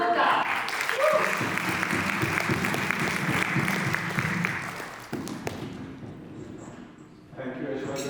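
An annual fund meeting audience applauds as a company's founder and CEO is introduced, a broad steady wash of clapping at moderate distance that thins toward the end, with a voice rising briefly near the close.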